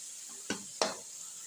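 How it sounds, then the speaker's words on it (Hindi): Peas being stirred and fried in a spiced masala for a home-style lunch, with two short scraping stirs against the pan over a faint sizzle, close and quiet, no talking. "अब हम इसमें डाल देंगे मटर और 1 से 2 मिनट इनको भी हम भून लेंगे"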